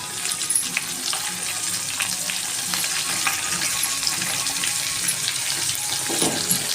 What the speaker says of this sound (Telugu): బాగా మగ్గాలండి ఆయిల్లో.